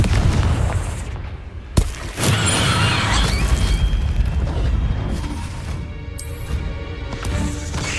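A Confringo fire spell goes off in the Hogwarts Legacy video game: heavy booming blasts with a sharp crack, set over a dense, rumbling wash of game sound that carries on throughout.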